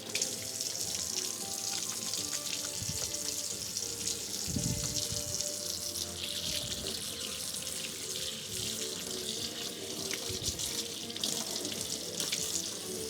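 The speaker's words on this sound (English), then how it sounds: "I have 2 pumps of Carex hand soap, and I'm gonna give it a good old lather up there" Hands are lathered and washed with Carex hand soap under a running tap, a steady close rush of water into a sink with splashing variations.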